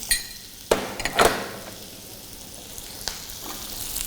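Sliced onions dropped into melted butter for classic Delhi-style butter chicken, a few sharp clanks and a quick burst of crackle, then a quiet, steady sizzle.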